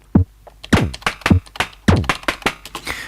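Volca Drum synthesizer percussion triggered from a computer keyboard, a run of punchy electronic drum hits and tonal thumps in an uneven rhythm, close and loud with no talking.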